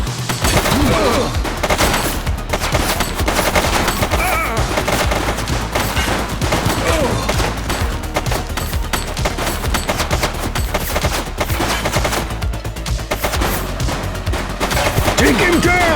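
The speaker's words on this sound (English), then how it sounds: "She's shooting!" Sustained bursts of rapid gunfire in The Precinct crime video game, loud and dense throughout with booming shots layered together and shouted voices mixed in.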